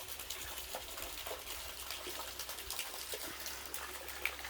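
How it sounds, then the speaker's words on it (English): Water falls steadily onto a person standing beneath a pool's cascade after a hike at Augrabies in Namibia, a continuous hissing splash with a low rumble underneath, close and fairly quiet throughout. "it's nice standing underneath there and getting your shoulders pummeled by that water"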